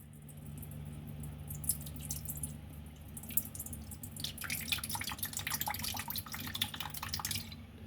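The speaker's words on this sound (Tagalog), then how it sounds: "maglalagay ako ng vinegar na black" Black vinegar poured into a bowl for a cucumber and black fungus mushroom salad: a faint, trickling liquid stream with light dripping that grows busier partway through, close and quiet, with no talk.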